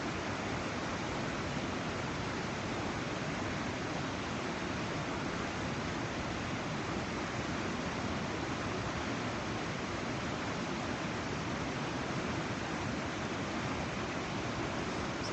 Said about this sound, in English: I don't know what class rapid this is